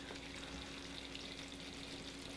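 Curry paste sizzles in a pan with coconut cream just added, a dense, steady frying hiss heard close and unbroken, with no talking.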